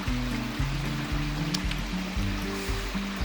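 A glacier meltwater stream in Alaska rushes and gurgles up close, a loud, continuous wash of flowing water with no talking.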